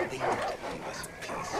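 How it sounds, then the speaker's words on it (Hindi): Dogs in Far Cry 5 bark and whimper as they fight, under someone talking over busy game sound. "भाई साहब इधर कुत्ते लड़ रहे हैं आपस में"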